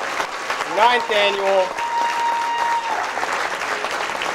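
An audience at the 2016 NB Athletic Hall of Fame ceremony applauds its inductees with steady clapping while a voice speaks loudly over the start of the applause.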